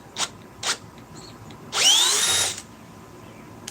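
A power drill backs a screw out of wood after two short bursts of spin-up, then a longer whining run of about a second that rises and falls in pitch, close and alone.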